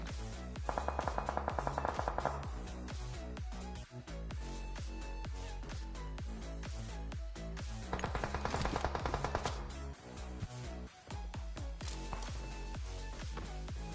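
Gunfire in the PUBG Mobile battle royale game, with rapid automatic bursts that come in clusters and sharp single shots, all set against continuous loud game music, with no voices.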